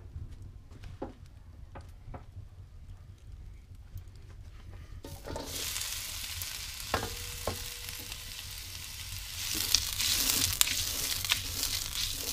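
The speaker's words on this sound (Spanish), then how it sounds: "la vamos a poner con un poquito de aceite en una sartén al fuego" Chopped onion hits a pan with a little hot oil, quiet kitchen handling giving way to a sudden bright, steady sizzle with occasional stirring scrapes.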